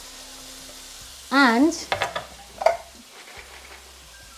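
Chopped potato and cauliflower land in a hot pan and start to sizzle, a soft frying hiss joined by a few sharp clatters and stirring knocks, with a short spoken word near the start.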